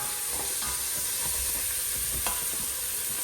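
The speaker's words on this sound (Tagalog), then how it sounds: "Tapos medyo igisa na natin yung karne." Meat is sautéed in a pan seasoned with powdered pepper, giving a soft, steady sizzle broken by a few light stirring scrapes, with no talking.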